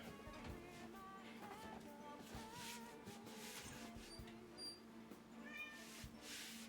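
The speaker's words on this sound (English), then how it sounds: "I can hear my cat as well" A house cat meows faintly in a quiet room, a few soft, separated mewing calls scattered over low background hum and faint game sounds, with no speech.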